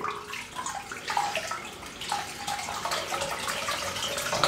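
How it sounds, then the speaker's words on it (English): Running tap water splashes into a sink as a shaving brush is wetted, an uneven, close gushing with small surges and drips and no talk over it. "let's wet this brush"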